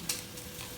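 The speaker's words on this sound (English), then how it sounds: "Ooh, that sizzle." Onions sizzle in a frying pan while chopped steaks are being made, a brief close hiss of frying with a light stirring scrape at the start.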